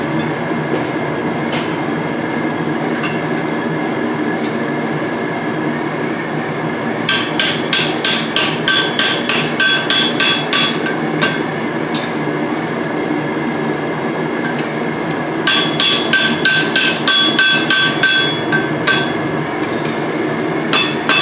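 Blacksmith hammering hot 3/8 steel stock while forging a pair of tongs at a demo: two bursts of rapid, ringing hammer blows, each a fast string of sharp strikes over a steady background rumble.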